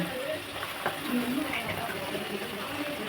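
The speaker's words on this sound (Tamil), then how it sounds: "பூரி பொரிச்சு எடுத்துக்குவோம்." Puri frying in hot oil, a steady soft sizzle and bubbling that holds even and fairly quiet throughout.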